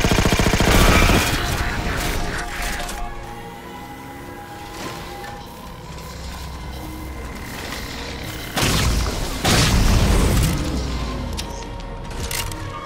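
Repeated enemy gunfire and explosive booms in the Halo 4 campaign mission Beam Control on Xbox 360, loud bursts at the start and again near the end with a sustained rattle of shots between, no talk.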